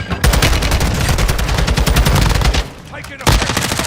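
Sustained automatic gunfire in a combat video game, rapid loud bursts filling nearly the whole span, breaking off briefly before a final burst resumes near the end.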